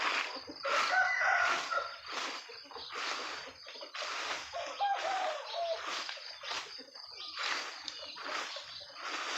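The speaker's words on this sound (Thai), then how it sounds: "มาหลังบ้านจะได้ยินแต่เสียงไก่" Chickens and roosters in a yard behind a rural Thai house, repeated loud crowing and clucking calls coming one after another, fairly close, with faint background voices.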